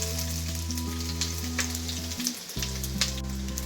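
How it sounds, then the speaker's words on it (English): Cumin seeds, mustard seeds and finely chopped ginger sizzle and crackle in hot oil, a steady close frying hiss with scattered pops for a Goan potato bhaji. "Once the oil is heated, add 1 teaspoon of cumin seed, 1 teaspoon of mustard seeds, add 1 inch of finely chopped ginger"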